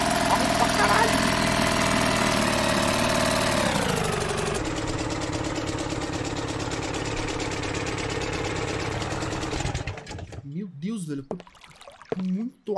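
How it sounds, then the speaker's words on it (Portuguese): A loud boat engine in the video game Martha Is Dead drones steadily up close, its pitch dropping partway through before it cuts out near the end. Someone talks over it. "muito alto, velho, o motor desse barco."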